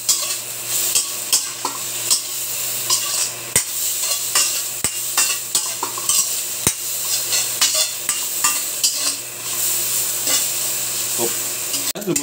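Pork pieces sizzle and spit in a pan as they render out their own fat, a constant close frying hiss broken by sharp clinks and scrapes of a utensil stirring against the metal, with no talking.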